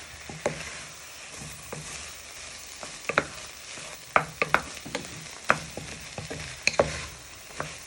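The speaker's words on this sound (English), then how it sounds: "give them a good toss in with all your onions, garlic and meat" Beef tossed in a pan with onions and garlic, frying with a steady sizzle under a run of sharp clacks and scrapes from stirring, close and fairly loud, with no talk.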